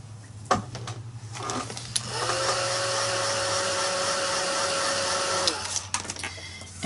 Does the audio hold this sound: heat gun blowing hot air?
yes